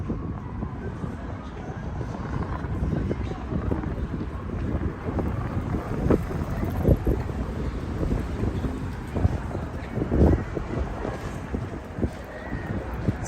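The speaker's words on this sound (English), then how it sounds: "It's so dusty and windy, bro." Strong wind during a dust storm in Las Vegas roars and buffets the microphone in a continuous rough rumble, steady with occasional louder gusts, and no clear talk over it.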